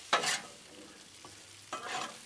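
A spatula scrapes and stirs potatoes frying on a Blackstone griddle in two short bursts of scraping with soft sizzle between, close and moderately loud.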